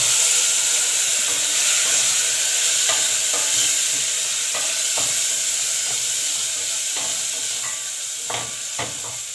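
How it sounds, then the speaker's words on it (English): Meat frying with onions in a pot over the lowest heat for pilau gives a steady close sizzle and hiss, broken by scattered stirring clicks and scrapes throughout. "So we are going to add our meat."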